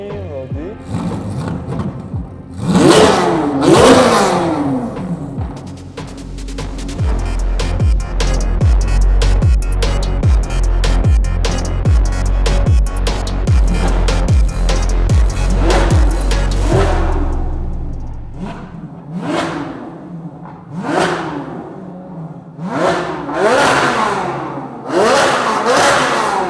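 A 670 hp Corvette engine revs hard and loud, with sharp rising blips early on, a long sustained roar through the middle, then a settle to idle and a final burst of quick revs.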